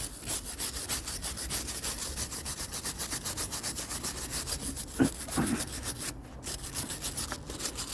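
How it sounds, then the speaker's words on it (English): A wire brush scrubs a rusted wrought iron railing in quick, regular back-and-forth strokes. The rasping is loud and close, with a brief knock partway through and a short pause near the end. "I still need to go at it with a wire brush."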